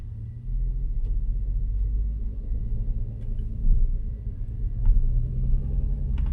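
Lexus RX350 engine pulling away gently from a stop, a steady low rumble with a faint strained undertone that rises slightly under light throttle, heard from inside the cabin with no talking.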